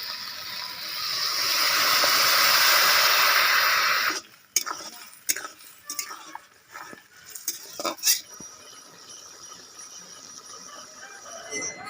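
Water is poured into a pan of spicy crab curry, a steady rushing hiss for about four seconds, followed by scattered clinks and scrapes of a spoon stirring against the pan.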